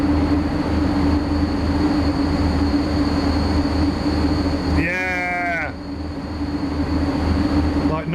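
A train in the railway simulator SimRail rumbles steadily throughout, with a brief squealing, wavering tone near the middle, likely wheel or brake squeal, over the continuous loud rolling noise.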